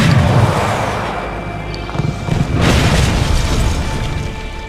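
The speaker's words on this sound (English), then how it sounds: "Missile launch confirmed." A missile launches and explodes in the real-time strategy game Yuri's Revenge, a loud, heavy rumbling blast with a second surge of booming detonation partway through that then fades, with no talk over it.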